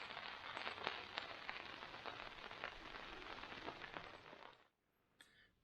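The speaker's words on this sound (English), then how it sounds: "Got done just in time for it to start raining." Steady rain hitting the ground and gear outdoors at a campsite, a dense continuous patter with scattered louder drops, cutting off abruptly near the end to near silence.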